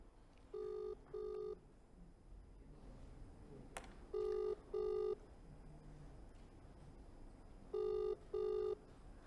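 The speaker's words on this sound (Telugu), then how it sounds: "అఘోరీ ఫోన్ రింగ్ అవుతోంది, కానీ ఆమె ఆన్సర్ చేయడం లేదు." Outgoing phone call ringing unanswered: a quiet ringback tone sounds in paired bursts, three double rings spaced evenly over a faint background hiss, with no one talking.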